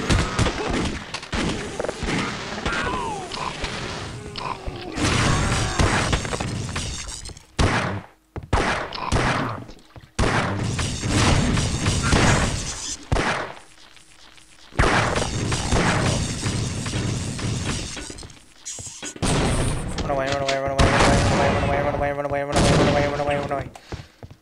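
Gunfire in the video game Half-Life: Opposing Force, dense bursts of rapid automatic shots and heavy blasts firing in long volleys with brief pauses, alongside crashes and impacts.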